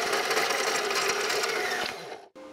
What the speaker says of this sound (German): Wir machen es mit der Bandsäge, weil wir eine haben.